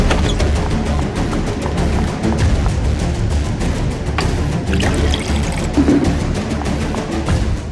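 Water poured out in a steady, fairly loud stream with trickling splashes, running continuously throughout in an indoor scene.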